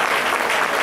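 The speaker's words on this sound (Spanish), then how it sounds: "¡Den un aplauso al Señor!" A church congregation claps in a brief, dense burst of applause.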